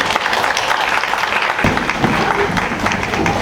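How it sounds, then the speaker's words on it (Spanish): An audience at a student panel on personality and mental health gives a sustained round of applause to welcome the speakers. The clapping is steady and fairly close, with faint crowd murmur underneath. "recibimos a nuestras, nuestros y nuestras ponentes con un fuerte aplauso"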